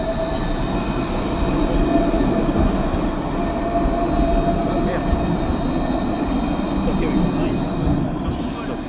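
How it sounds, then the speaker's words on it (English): A train rumbles steadily at close range with a constant loud roar and faint high whine, rolling on without pause throughout. "Look, they sent the right train for Jazz University."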